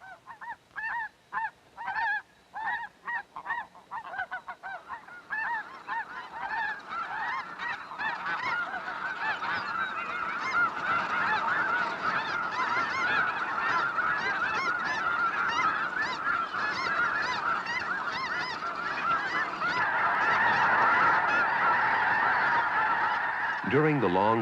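A flock of geese honks steadily on the ground ahead of their long southward migration, young birds newly flying and adults with fresh wing feathers, starting with a few separate rhythmic calls and then swelling into a dense, continuous chorus.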